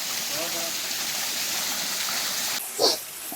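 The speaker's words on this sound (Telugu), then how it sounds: "ఇది బెనరే వాటర్ ఫాల్స్" Benare waterfall near Seethampeta in Srikakulam district, a tall fall between high green hills, gives a steady broadband rush of falling water. A brief brighter splash or knock rises near the end.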